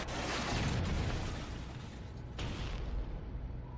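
A grenade blast in Halo lands as a big, loud, broadband boom that rumbles on and slowly fades over a few seconds, with a second thud partway through and no voices.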